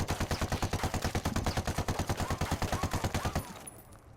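AK-47 rifle in Ghost Recon Wildlands firing a long fully automatic burst, rapid evenly spaced loud shots for over three seconds before stopping abruptly, followed by a brief quiet tail.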